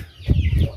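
Pet chickens cluck in a short, close burst of low, throaty calls, with no one speaking.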